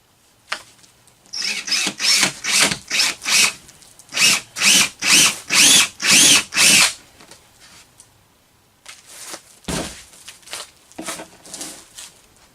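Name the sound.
drill drilling successively larger holes in a tote wall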